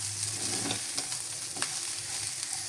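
Leftover rice stir-frying in ghee in a pan makes a soft, steady sizzle with light scraping from stirring and a few small clicks, faint and close, with no talking.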